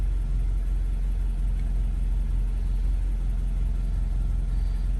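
Car engine idling steady and even after a cylinder 2 misfire repair, a constant low rumble with no stumbles, heard close throughout.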